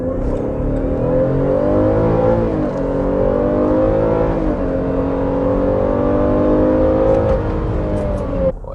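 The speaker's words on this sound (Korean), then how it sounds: "D 모드에 놓고 제로백 스타트 하겠습니다" Chevrolet Traverse full-size SUV with a 314 hp engine launching from a standstill in D mode with the air conditioning off, a loud continuous engine drone rising steadily in pitch through the gears, close and alone without talk.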